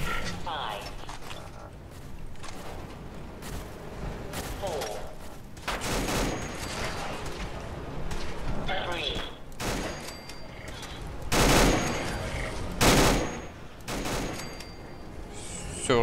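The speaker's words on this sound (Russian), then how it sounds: "А, да я в тебя стреляю." Gunfire in Fallout 4 during a fight with a scavenger and an automatron, with bursts of shots and mechanical clatter spread across the scene, some louder blasts standing out, under occasional talk.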